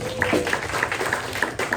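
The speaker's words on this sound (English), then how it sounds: "Let's give him a round of applause" An audience at a press luncheon claps in a short burst of applause, with distinct hand claps over a murmuring room and some background voices.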